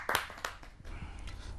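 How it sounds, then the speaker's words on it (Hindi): A few people clap to welcome a poet onto a studio stage, with sparse sharp claps at first and then a softer, thin patter of clapping, fairly faint and close. "आपका स्वागत करते हैं जोरदार तालियों से"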